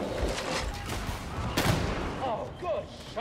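Gunfire in Warhammer 40,000: Darktide, with dense, loud shots and booms packed together in a chaotic firefight, a sharp crack standing out partway through and a voice heard alongside.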